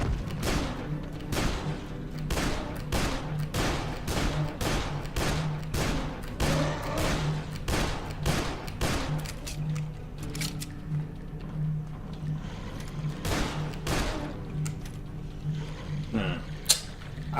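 Rapid gunfire in Dead Island: a long, steady run of sharp repeated shots in quick rhythm, loud and close over a low droning backdrop, thinning out into scattered cracks toward the end.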